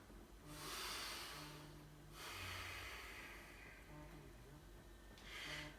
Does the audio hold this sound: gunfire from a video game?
no